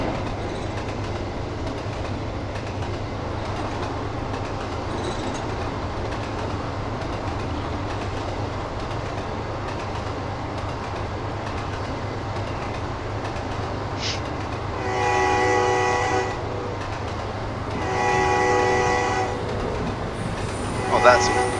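A train in Trainz 2022 rolls through a curve with a steady low rumble, and wheel squeal and screeching rises in bursts toward the end.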